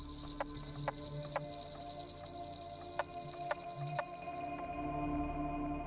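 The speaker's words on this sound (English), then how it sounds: "The carpenter frog is very distinctive because it has a call that just sounds like somebody" Carpenter frog calls ring out as sharp, evenly spaced knocks like a hammer striking wood, several in a row over a steady high insect trill in a quiet wetland night.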